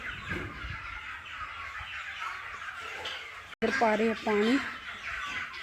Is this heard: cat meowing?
no